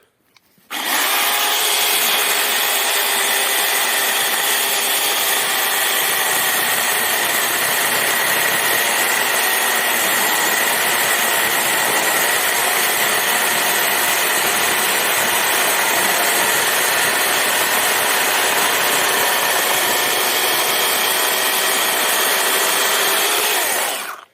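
A Procraft PKA 38 cordless saw on a 6 Ah battery cuts through 20 mm wood: after a brief quiet start the motor and blade run at a steady, loud, close whine for over twenty seconds before stopping.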